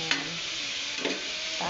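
Guava sizzles steadily as it is sautéed in a frying pan for shrimp and string bean stir-fry, a continuous loud fry with a couple of brief stirring scrapes, no voices.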